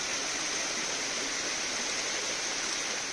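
Spring water gushes from a full pipe in a steady, loud, unbroken rush of splashing water, close by and without pause.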